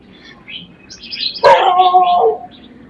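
A small dog near a canal gives a single sharp, close bark among light outdoor birdsong chirps.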